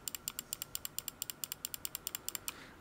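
Thumb buttons on a Razer Basilisk V3 Pro mouse clicking in quick succession: around twenty crisp, faint, close-up plastic clicks in a steady rhythm, with no talking.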